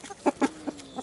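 Backyard hens and a cockerel cluck in a quick run of about four short, clipped calls, close by and unevenly spaced, with no talking over them.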